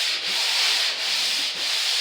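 Joint compound on a wall is sanded smooth with 220 grit sandpaper, a loud close scratchy rasp in long continuous strokes with brief dips between passes.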